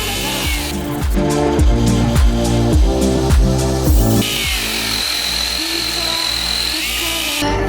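A ProCraft PKA 32 Li mini cordless chainsaw cuts wood with a loud, whining motor that bogs down in a rapid run of strained pulses, then revs freely in a smoother, higher drone.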